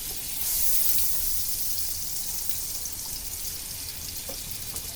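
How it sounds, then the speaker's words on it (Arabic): A small knob of butter melts in a hot pan, giving off a steady, close, crackling sizzle with a bright hiss that holds evenly throughout, with no voices. "هننزل بحتة زبدة صغيرة وهنستنى عليها لما تسيح"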